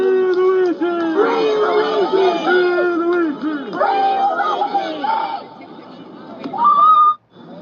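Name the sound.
crowd cheering and whistling in played video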